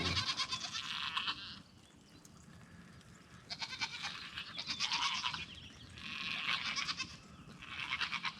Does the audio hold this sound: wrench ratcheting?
no